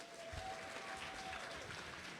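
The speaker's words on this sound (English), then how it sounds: "Jamie Raskin, give him a round of applause." A crowd at a delegation breakfast meeting claps and cheers in sustained, dense applause that stays steady throughout.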